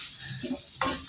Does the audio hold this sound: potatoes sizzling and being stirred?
yes